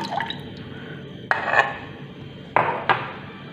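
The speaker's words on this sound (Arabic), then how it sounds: "هنايا عندي سيرو راه بارد، نزيدو له 2 ملاعق تاع عصير ليمون" Lemon juice splashes from spoons into cold syrup in a few short, bright bursts, and a metal spoon clinks against the container between them. The sounds are close, with a quiet background.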